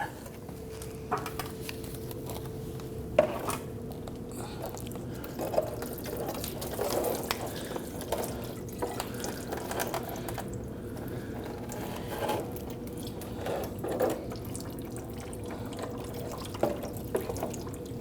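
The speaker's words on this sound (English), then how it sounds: "we're going to do our best we can to go ahead and drain out what's left in here into a bucket" Leftover coolant drains from a 2009-2017 Volvo XC60 radiator into a bucket, a steady faint trickle with scattered drips and patters, close by and continuous, no voices.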